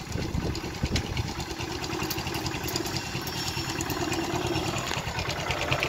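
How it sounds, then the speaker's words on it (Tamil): Vehicle engine running on hydrogen fuel with the regular fuel cut off, a steady close idling drone with a fine rapid knock throughout and no talk. "இப்போ ஹைட்ரஜன்ல ஓடிட்டே தான் இருக்கு. நல்லா இருக்கு, வண்டி மூவ் ஆகுது."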